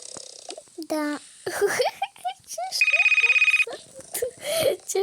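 A telephone rings in a child's pajama-party game, a short bright electronic trill heard once amid a child's chatter and playful game sounds.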